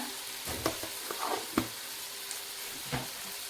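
Spices such as turmeric and garam masala being stirred into a sizzling egg curry in a pan, with a soft steady frying hiss and a few scraping taps of the spoon against the pan.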